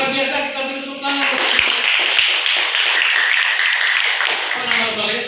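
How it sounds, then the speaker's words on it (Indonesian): A classroom of students applauds, a dense burst of clapping lasting several seconds after a teacher speaks, then fading as talk resumes. "kita beri tepuk tangan."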